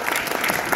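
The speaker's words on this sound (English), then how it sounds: "Let's give him a round of applause." A brief burst of audience applause at a church talk gathering, dense clapping from a roomful of people, loud and sustained through the short moment without pause.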